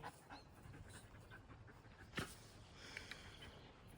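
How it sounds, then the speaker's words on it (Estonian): A search dog pants rapidly and sniffs close by, quick breathy rhythms with a sharper snort near the middle, fairly faint against background noise. "ja tubli koer oled"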